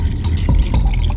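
Water pours steadily into a drinking glass at a restaurant, a continuous close splashing trickle lasting about a second with no talk over it.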